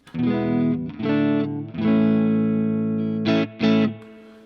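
Clean electric guitar chords from a Japanese-made Fender Telecaster '60s Custom ring out through a tube amp, sustained and bright, with short breaks between strums and two quick higher stabs near the end.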